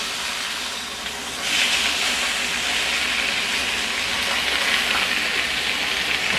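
Pork chops searing in a hot pan for a Chinese curry give off a loud, continuous hissing sizzle up close, swelling slightly after the first second and then holding steady with no talk.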